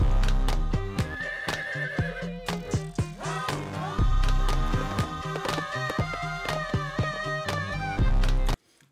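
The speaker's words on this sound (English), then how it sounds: "Christopher Reeves, they got a horse in the background" A horse whinnies over a dense, loud hip-hop track, the neigh blended into driving music with sharp percussive hits throughout.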